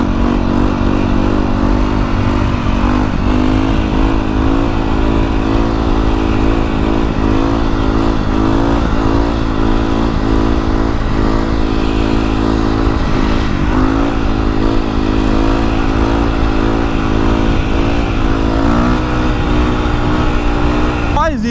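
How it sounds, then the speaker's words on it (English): A Yamaha YZ250 dirt bike engine runs loud and close throughout, a dense continuous drone with rising and falling revs and no pauses. "YZ250 is a beautiful bike, and we have definitely hammered the shit out of her"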